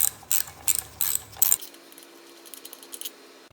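A wrench ratchets out a 5/8 bolt from the lower unit of a 1986-or-newer V4 Johnson Evinrude outboard. Quick bursts of metallic clicking sound close up for a second or so, then give way to faint scattered ticks.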